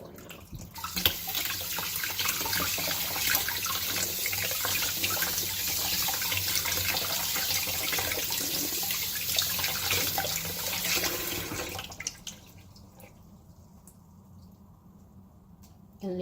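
A kitchen tap runs steadily into a sink while a piece of cured beef is washed for pastirma, a loud continuous splashing stream that stops abruptly near the end, leaving quiet room sound.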